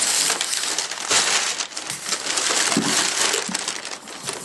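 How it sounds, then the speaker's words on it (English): Packing paper crinkled and pulled out of the box of an ASUS Transformer Book T100 tablet during an unboxing: loud, close rustling and crumpling in continuous bursts, with no talking. "Let's get this paper out of here."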